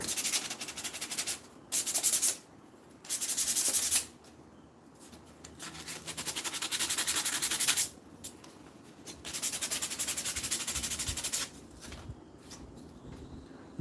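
Wood is sanded by hand with sandpaper in bursts of dry rasping strokes, some short and some sustained for a few seconds, with brief pauses between them, close and fairly quiet, no one speaking.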